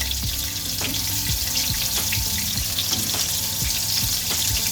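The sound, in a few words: Moroccan kefta meatballs frying in a pan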